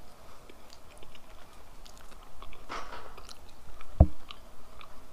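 Someone chews a mouthful of udon noodles with boiled eggs, soft close-up mastication with faint wet squishes and one sharper bite partway through, no talking.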